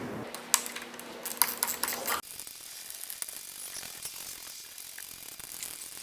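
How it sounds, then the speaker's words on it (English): Ratchet wrench tightening the clamp bolts that hold the handlebars on an electric ATV, giving a quick series of light clicking ratchet strokes at close range for about two seconds, then only faint mechanical handling and room noise. "you're going to want to make sure you tighten down the 4 bolts evenly on each singular clamp"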